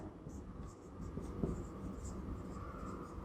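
Faint scratching of writing an answer during a maths lesson on sets runs steadily at low volume, with a soft hum in the background.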